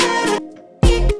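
White noise effect added at a song's chorus, with two loud bursts of broadband hiss over the music separated by a short gap, the second starting abruptly with a low thump.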